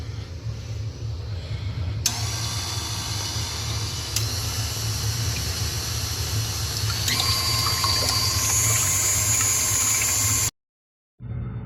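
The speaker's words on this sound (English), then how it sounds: "While the egg whites are beating" Electric mixer beating egg whites for a chiffon cake, a steady motor whine with a constant low hum running throughout, its pitch shifting slightly as it works, then cutting off abruptly near the end.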